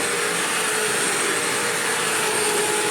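A Bissell CleanView vacuum cleaner runs continuously, a loud, steady, close-up whooshing roar with a faint motor whine and no pauses.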